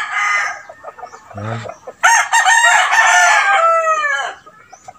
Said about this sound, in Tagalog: video maingay kasi mayroong manok